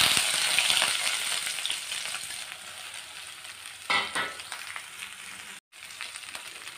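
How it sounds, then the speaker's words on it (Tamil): Pirandai, the adamant creeper, fries in hot oil in a pan, a continuous close sizzle with stirring scrapes, a short burst of louder crackle near the middle and a brief dropout near the end. "இப்போ அதே எண்ணெயில் பிரண்டையும் சேர்த்துக்கலாம்"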